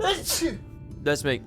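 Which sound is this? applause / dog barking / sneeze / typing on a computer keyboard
sneeze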